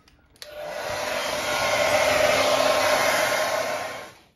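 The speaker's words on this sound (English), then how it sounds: "another mad trick for painting in cold, wet weather is a hairdryer" Hair dryer blowing to dry fresh paint on a Toyota KE30 Corolla in cold, wet weather; it switches on abruptly, roars steadily at close range for about four seconds, then cuts off.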